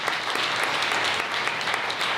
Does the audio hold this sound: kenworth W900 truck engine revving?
no